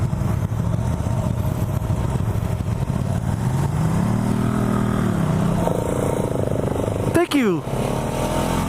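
A 2017 KTM 690 Enduro R single-cylinder engine thumps steadily while riding, with the pitch rising as it accelerates, under ongoing talk from the rider and sharp wind buffeting near the end.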